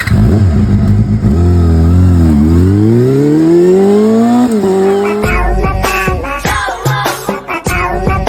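A motorbike engine revs loud and close, its pitch climbing as the bike rides off, followed by choppy bursts of engine noise and clatter.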